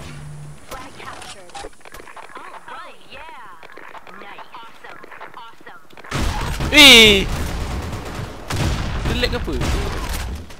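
Gunfire from the Blackshot competitive shooter game, with quieter rapid shots early on, then a loud burst of firing and impacts in the second half as a player speaks over it.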